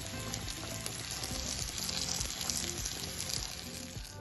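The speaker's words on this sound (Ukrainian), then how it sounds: "Смажимо до янтарного кольору, перевертаємо і знову ще хвилинку десь досмажуємо." Breaded broccoli fries in a pan with a steady, dense sizzle and crackle that holds close and even throughout, with no voices over it.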